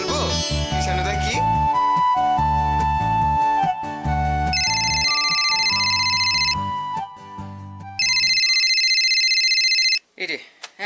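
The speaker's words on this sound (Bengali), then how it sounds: "এই রে এখন আবার ফোন" Electronic ringtone in a Bengali TV serial scene: a looping melodic tune plays loudly, followed by two bursts of sustained high bell-like ringing, then a voice briefly speaks at the end.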